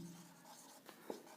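Chalk or marker scratches briefly across a board during a physics lecture, a faint close scrape with a couple of small taps in a quiet room.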